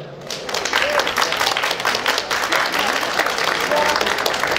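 A crowd at an outdoor town-festival award ceremony in Marklowice, honouring a Silesian dumpling cooking contest, breaks into sustained applause, with a voice carrying over the clapping.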